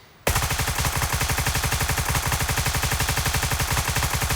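Sustained rapid automatic gunfire from a test-fired weapon in the military shooter game Gray Zone Warfare, loud and close, starting abruptly after a brief quiet moment and continuing as a steady rhythmic burst with no talk.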